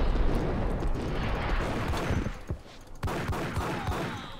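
Beretta pistol fire in the video game Max Payne, a dense stretch of loud, overlapping shots and gunfight noise with sharper individual reports toward the end.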